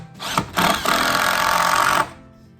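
A power tool drives screws into a door header made of three 2x6 boards with plywood in the center, one loud, steady whine that runs for about a second and a half after a couple of short bursts, then cuts off.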